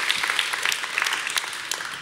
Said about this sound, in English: Round of applause to these folks.